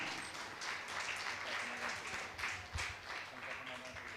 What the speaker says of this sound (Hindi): आपकी तालियां लगातार इनके सम्मान में बजती रहें